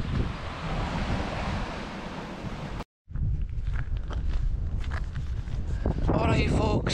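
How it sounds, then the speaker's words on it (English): Ocean waves surge and break on the Scottish coast under heavy wind noise on the microphone, a steady loud rush cut by a brief silence before the surf and gusts resume with spray-like hiss. "It seems to be these waves come in and surges"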